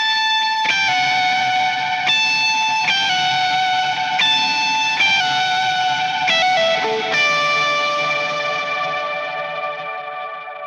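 An electric guitar lead for a worship song, played with gain, reverb and eighth-note delay, sings sustained overdriven notes that repeat in echoes, moving through a few changes before one final note rings out and fades.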